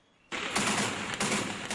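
Gunfire in Mogadishu, the capital of Somalia: after a quiet start, a loud burst of rapid shots breaks out and continues in a few clustered volleys over a couple of seconds.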